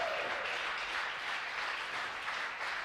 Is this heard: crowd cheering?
yes